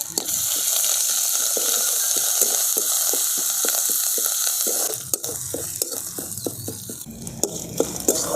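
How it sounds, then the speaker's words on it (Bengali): Ginger and green chilli paste frying in a pan for a vegetarian potato curry, a loud continuous sizzle broken by regular scraping stirs, with clattering utensil knocks in the later part and no talk. "দেখুন আদা আর কাঁচা লঙ্কাটা খুব ভালো করে ভেজে নিয়েছি"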